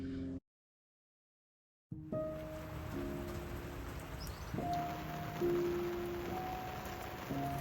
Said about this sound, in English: now we're having our coffee in the cockpit, enjoying the sounds of the rain.